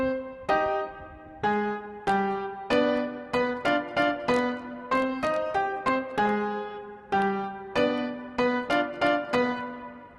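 Son montuno piano-style MIDI pattern from the Fuego VST plays alone, a syncopated Latin keyboard figure of clear repeated chords and plucked notes in steady rhythm.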